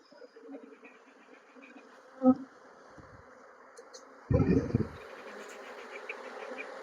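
Honeybees buzz steadily as freshly harvested bees are lifted by hand and released near a hive entrance on a beekeeping farm, with a sharp close pass and a louder burst of buzzing midway.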